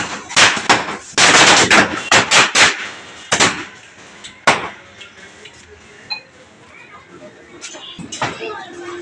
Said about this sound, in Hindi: यहाँ पे बच्चे तो बस अपने पटाखे वटाखे जला रहे हैं